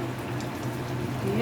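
Lentil and poppy-seed curry boiling in a pan, a posto dish with potato, ridge gourd and drumstick, gives a steady, soft bubbling hiss under a low hum, close and even throughout.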